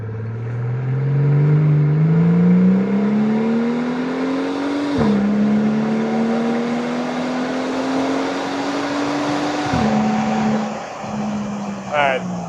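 A 670-horsepower Mercedes G65 6x6 SUV engine revving and accelerating, a loud throaty rising drone that climbs through gears with sharp shift drops, close and sustained, with someone talking over it.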